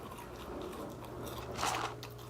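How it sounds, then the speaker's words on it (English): Fries being bitten and chewed by a man with front-teeth trouble, soft moist crunching close to the mic with a brief louder crunch near the end, no talk. "Notice that he can't chew with his front teeth."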